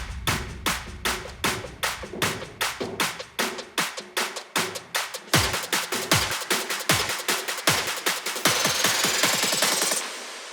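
Electronic build-up drums with layered claps and snares hit in steady repeated beats that grow faster and denser toward a drop, ending in a rapid roll under a rising noise sweep, loud and punchy.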